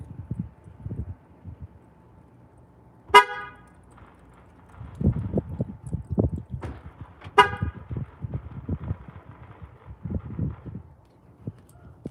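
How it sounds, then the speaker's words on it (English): Two short, loud car horn beeps sound several seconds apart, set off by accident from inside the car, with low shuffling and movement noises between and after them. "I accidentally beeped my car when I was in it."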